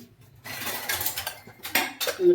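Metal pots and dishes clatter and clink together in a short burst of close handling, with scrapes and knocks following one another.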